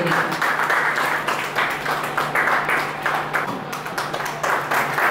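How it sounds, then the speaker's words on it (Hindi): An audience at a road safety and traffic welfare award distribution event applauds, dense continuous clapping that swells in waves over a faint steady hum. "जोरदार तालियां एक बार मुझे नाम के लिए"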